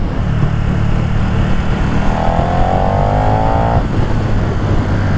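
A KTM Superduke 1290 Evo, a 180-horsepower naked bike, roars loudly and close up under hard acceleration while overtaking, its engine pitch climbing steadily over constant wind rush.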